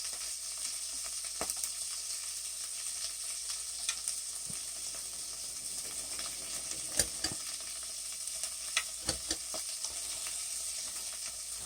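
Bacon sizzling steadily on a Grill Boss 90057 dual fuel grill, a continuous bright crackle with scattered louder pops, fairly close and alone.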